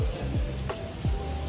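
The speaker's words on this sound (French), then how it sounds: "Il s'est mis à pleuvoir, je pense qu'on entend." Rain falls outside in a soft, continuous patter with faint scattered drops and hiss, heard quietly from indoors with no talk.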